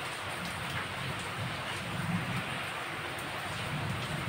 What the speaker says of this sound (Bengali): বাইরে প্রচণ্ড বৃষ্টি হচ্ছে, বৃষ্টির শব্দ নিশ্চয়ই আপনারা পাচ্ছেন।